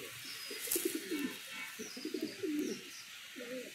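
Madrasi pigeon cooing softly in a series of low, rolling calls, heard close by across the whole stretch with light background hiss.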